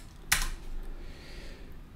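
Computer keyboard shortcut typed on a keyboard, a single sharp click cluster near the start followed by quiet room tone.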